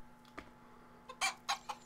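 Chickens in the survival game Rising World give a few short, clipped clucks, close and fairly quiet, clustered toward the end over a faint steady hum.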